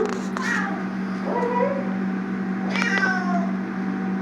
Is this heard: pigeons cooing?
no